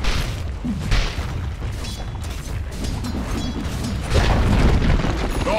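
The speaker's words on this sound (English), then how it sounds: "Dire's bottom tower is crumbled to the dust." A tower being destroyed in Dota 2: a deep crumbling boom with rumbling debris rises from a busy battle mix, growing louder toward the end, with no voices.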